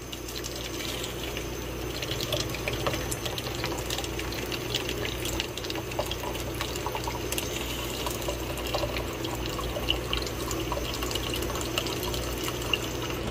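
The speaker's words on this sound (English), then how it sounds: "I'm just gonna use tap water." Tap water runs steadily into a cup, a continuous close splashing hiss lasting over ten seconds with no talk.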